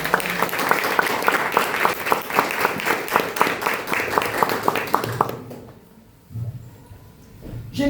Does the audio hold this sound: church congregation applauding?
yes